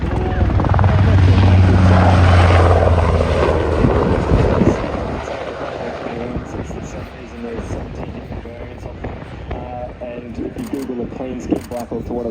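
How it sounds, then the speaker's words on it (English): A display aircraft at the Avalon Airshow near Melbourne gives off a loud, close rotor-like thrumming roar that fades after a few seconds into a quieter distant drone, with people talking over it. "The aircraft is going to the left and just climbing now."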